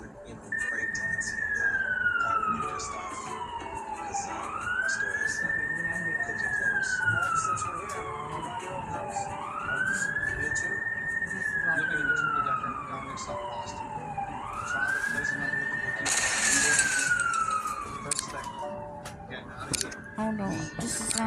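An emergency siren wails in slow rising and falling sweeps that repeat about every five seconds, loud and close, over street noise.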